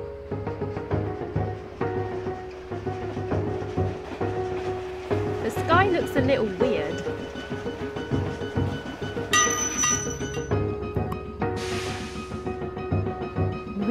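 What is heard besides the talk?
noisy train in the video game Old Man's Journey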